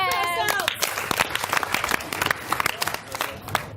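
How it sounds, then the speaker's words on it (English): Children's audience claps together in a burst of applause, dense overlapping hand claps filling the room, with a voice heard briefly at the start. "So clap for yourself."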